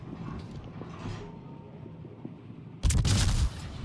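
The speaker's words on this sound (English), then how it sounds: "And there's VII-VIII shooting at me." A warship in a naval battle video game fires a heavy gun salvo, landing as a loud, sudden boom about midway through after a quieter rumbling stretch, then fading out.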